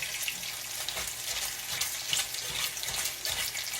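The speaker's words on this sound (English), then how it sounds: "I just throw my grease up on it like that" Hot grease sizzles and crackles steadily in a skillet while salmon croquettes cook, a dense, close hiss with small pops running throughout and no talking.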